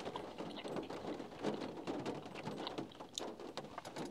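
Rain falling on a parked van, heard from inside with the front windows cracked open: a soft, steady patter with scattered louder drops, fairly quiet and continuous.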